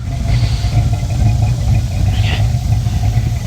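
The engine of a fire-damaged 1955 Chevy Bel Air running rough on a new carburetor, with a loud, uneven low rumble that holds steady at idle and has a brief higher rasp partway through.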